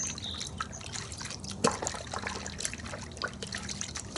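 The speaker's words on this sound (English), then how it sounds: "as you agitate the water, it's got some huge bubbles that are already appearing" Water mixed with Chemical Guys Mr. Pink car wash soap sloshes and trickles close by as it is stirred in a bucket, forming large bubbles, with small splashes and drips rising over a continuous gentle swirl.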